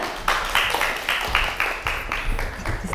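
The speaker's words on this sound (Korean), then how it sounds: "큰 박수 부탁드립니다" Audience applause at a Friday public science lecture in Daegu as a pharmacy professor is introduced: a short burst of clapping from a seated crowd, moderately loud and steady, with no speech over it.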